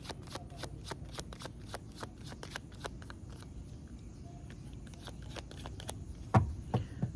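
A tarot deck being shuffled by hand, a quick run of crisp, evenly spaced card flicks, close and fairly quiet over a low room hum.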